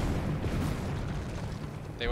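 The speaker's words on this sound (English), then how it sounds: "Explosion." A booming explosion bursts in the Elden Ring game, a dense low rumble that stays loud through the whole moment, with someone talking over it.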